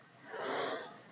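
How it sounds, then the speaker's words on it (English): A patient takes a slow deep breath in during a physical exam, a soft airy inhalation that swells and then fades, heard close and alone without talk. "take a deep breath in"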